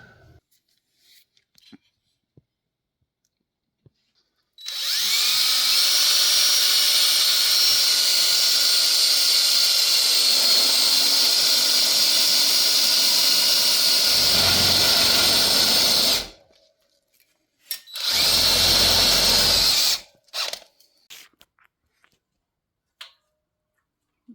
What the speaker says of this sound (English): I need a drill motor.